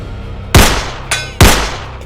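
Rifle fire in a Hindi film scene: two sharp, loud cracks with a fainter metallic report between them, each decaying quickly within about two seconds.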